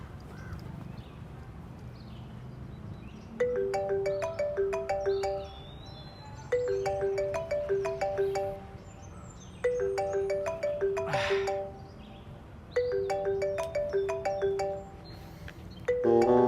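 A mobile phone ringtone for an incoming call plays a repeating electronic melody in four short phrases separated by pauses, moderately loud over a quiet indoor background.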